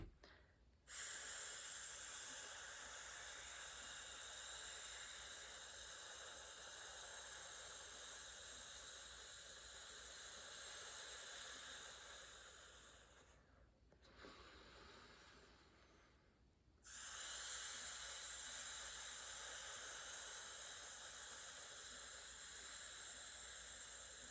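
A soft, steady breathy hiss held for a long stretch, pausing briefly once, then resuming at the same quiet level.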